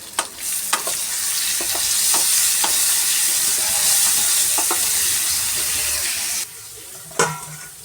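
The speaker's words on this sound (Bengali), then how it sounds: "এই যে এখন উচ্ছে ভাজতে দিয়েছি" Bitter gourd frying in oil, a steady bright sizzle with occasional clinks of a utensil, close and loud, dropping away near the end to a quieter room with one last clatter.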